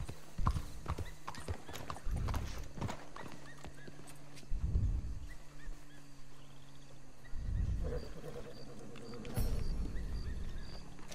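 Horse hooves clip-clop in quick and irregular beats with several low snorting neighs in the video game Red Dead Redemption 2, fairly near over ambient game sound.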